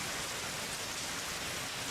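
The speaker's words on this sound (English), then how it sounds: "Before long, it was pouring." Heavy rain pours steadily in the visual novel Steins;Gate, a loud, dense, unbroken hiss of downpour with no speech.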